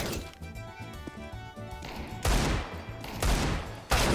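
Gunfire in Counter-Strike 2: rapid bursts of loud, booming shots over a busy game background, several harsh crashing reports near the end, close and dense, with no talking.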